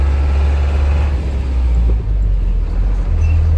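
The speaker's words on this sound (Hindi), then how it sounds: "हम जो एरिया है हमेशा ट्रैफिक से भरा रहता है" Steady road traffic rumbles through a busy town centre near a market, a deep continuous engine drone from cars, trucks and buses, loud and close throughout.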